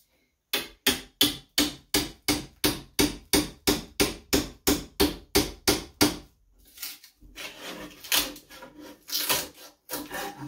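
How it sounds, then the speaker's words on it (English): A steady run of about fifteen sharp, even hammer strikes on a crowbar, then scraping, cracking and prying noises as veneer is levered loose from a cabinet. "I'm going to use this crowbar and this hammer to remove this veneer"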